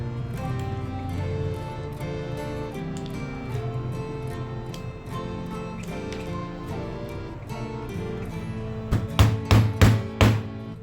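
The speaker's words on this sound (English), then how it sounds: "using a 3 and 8 millimeter punch, we make holes in the inner corners of the work" Several sharp, close hammer strikes on a 3 mm and 8 mm leather punch driving holes into leather, a quick run of about five blows near the end over a softly ticking background.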